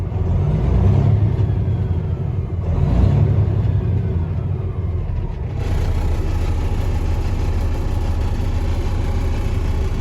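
A 2014 Kenworth W900L glider daycab with an 18-speed sits at operating temperature, its diesel idling in a steady, loud, close rumble that shifts slightly partway through, with no voices.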